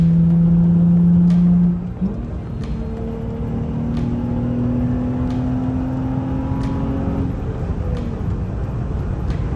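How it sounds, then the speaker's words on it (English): A red project car's engine accelerates, a steady low drone with rising harmonics as it pulls through the revs, close and loud without any talk. "I love this red car so much. The sound, the power."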